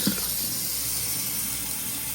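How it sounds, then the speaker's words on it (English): Water runs steadily from a Kohler faucet into a stainless steel sink, a constant close rushing hiss with no talk over it. "So I'm gonna let the water run a little bit."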